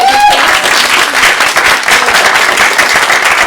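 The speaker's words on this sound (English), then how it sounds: "Can we get a round of applause for our organizers?" Loud, close applause for organizers at a Water Solutions Summit, many hands clapping densely and continuously; a brief tonal voice-like sound at the very start.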